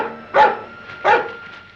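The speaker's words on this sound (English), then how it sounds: "What's the matter with that dog?" A dog barks twice outdoors near rocks and a marshy stretch, two loud, sharp barks about 0.7 seconds apart standing out clearly over quiet surroundings.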